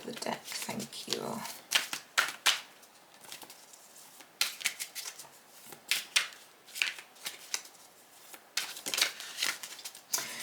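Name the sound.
tarot card taken off the top of the deck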